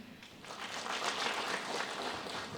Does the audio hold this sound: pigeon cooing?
no